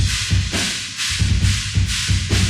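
Drum kit captured by room ambience microphones in a studio mix, with a roomy, washed sound: muffled thumping kick and snare hits in a steady rhythm under a bright wash of cymbal ambience, fairly loud and alone.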